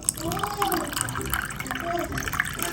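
Water pours into a colourful drink of mint, chia seeds and Rooh Afza, a soft, steady liquid trickle with faint gurgles close by, with quiet background sound.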